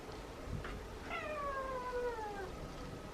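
Feral cats eating outdoors, one giving a clear, high, squeaky meow that slides downward over about a second, faint against a steady low background hum.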